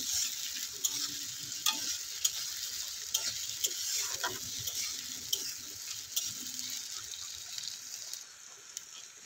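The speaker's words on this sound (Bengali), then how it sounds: "পেঁয়াজটাকে আমি গোল্ডেন ব্রাউন করে ভেজে নেব।" Chopped onions fry with tomato in a pan, a steady, close sizzle broken by occasional light stirring clicks, softening slightly near the end.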